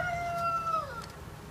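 A short, faint morning rooster crow rings out from a distance at a dacha in rainy weather, a drawn-out tonal call fading after about a second over soft background noise.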